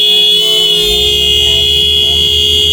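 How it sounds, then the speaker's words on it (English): A car horn sounds loud and sustained as a steady tone, blaring close by for a few seconds with a low rumble beneath it. "I think that was honking at me"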